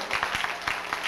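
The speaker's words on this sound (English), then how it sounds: "give them applause for the NAFAD Youth Summit" An audience at the 1995 NAFAD Youth Summit claps in a brief, dense burst of applause, close and lively. Individual hand claps patter across the whole moment.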